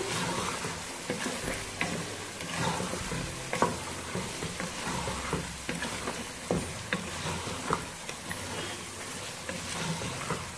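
Meat sizzling and frying in a pan in onion, garlic and ginger paste for beef biryani, with steady crackling and occasional stirring scrapes, close and moderately quiet, no talking.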